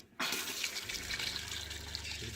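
Water gushes steadily from an RV faucet during winterization, starting abruptly after a brief silence and then running as a continuous rushing hiss with a low hollow rumble in the plumbing.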